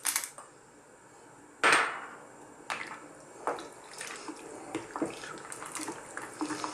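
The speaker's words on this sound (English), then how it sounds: "Now, drop in your pasta." Pasta drops into a pot of very hot water on the stove with a sudden splash, followed by softer bubbling, clinks and kitchen handling noises.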